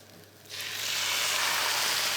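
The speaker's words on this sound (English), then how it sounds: "We should hear a lovely sizzle." Tomatoes hitting a hot pan for a chicken curry: quiet at first, then a sudden burst of bright, hissing sizzle that builds and holds steady and close, with no talk.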